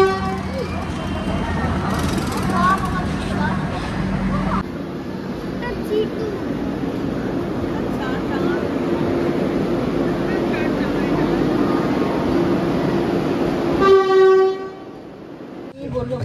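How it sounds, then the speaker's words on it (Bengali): The Vande Bharat Howrah–Puri Express, train 22895, pulls into a station with a loud, continuous rumble and clatter, and people talk over it. A sharp horn toot sounds near the end before the noise drops away. "ঢুকছে বন্দে ভারত"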